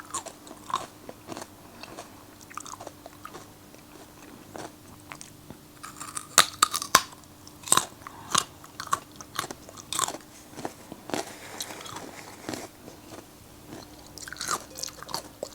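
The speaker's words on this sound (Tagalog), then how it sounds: "Gusto ko yung sound ng crunch." Crunchy bites and chewing of a snack eaten alongside Samyang fire noodles, close and crisp, irregular snaps and crackles scattered over quiet, with no talking.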